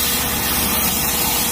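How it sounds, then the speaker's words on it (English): A Harder & Steenbeck Infinity CR+ airbrush with a 0.4 mm tip sprays a wide pattern, making a continuous, even, close hiss with no talking. "you can expect a wider spray pattern at about 2 inches"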